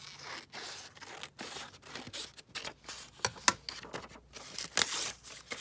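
Paper, a botanical book page, is torn and handled for a collage. It makes a quick run of close, crisp ripping and crinkling bursts with short pauses between them and no voices.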